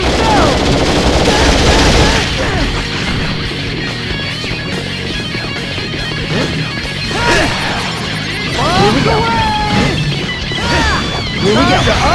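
Laguna fires in Dissidia Duodecim with rapid bursts of gunfire and crashing impacts during a fight. A character's voice shouts over the start, and the shots are loud and close.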